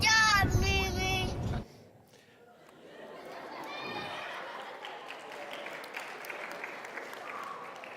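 Audience clapping in a church setting follows a brief loud sung line, a scattered, moderate patter of hands continuing steadily with some murmured voices mixed in.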